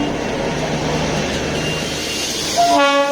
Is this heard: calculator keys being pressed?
no